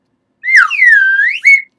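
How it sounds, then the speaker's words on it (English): A single loud, clear whistle played alone, sliding down then up in a long tone before a short second blip, with silence around it. "you also get this very special whistle"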